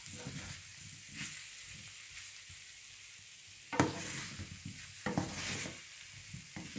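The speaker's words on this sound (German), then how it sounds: "etwas ohne Öl zu braten, aber es geht" Potatoes for vegan Bratkartoffeln fry in a pan without oil on a stove set to 7, a soft steady sizzle with scraping and stirring bursts as they are turned, faint and close.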